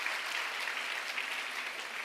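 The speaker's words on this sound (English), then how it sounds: "So we all deserve to give her a round of applause." A seated audience of women students claps for the MC at an event, a continuous, even patter of applause heard faintly and at a distance.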